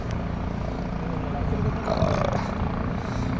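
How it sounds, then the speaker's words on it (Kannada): A helicopter flies near the Kedarnath helipad in the Himalayan mountains, its rotor and engine making a steady, heavy drone that fills the whole stretch. "ಇಲ್ಲಿ ನೋಡಿ ಇಲ್ಲಿ ಹೆಲಿಕಾಪ್ಟ್ರು"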